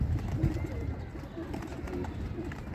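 Pigeons coo softly inside a coop, low murmuring calls repeating under continuous nearby conversation in a voice.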